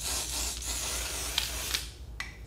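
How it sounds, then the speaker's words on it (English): Several quick, hissing sprays of water from a spray bottle onto hair, close up, with brief pauses between bursts and soft rustling in between. "spraying it all the way on, really saturating it."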